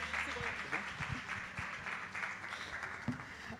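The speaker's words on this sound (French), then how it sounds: "On peut encore l'applaudir." Audience applause during a French-language talk show masterclass, a steady wash of clapping at moderate distance, fairly soft, with a few louder individual claps and a voice murmuring underneath.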